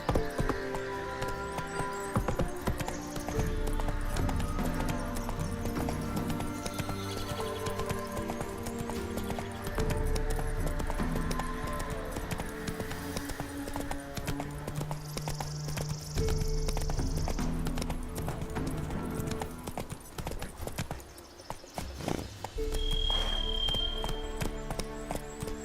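Roach the horse gallops through The Witcher 3, hooves pounding in a fast, steady clip-clop rhythm over a music bed, with brief snorts and whinnies along the way.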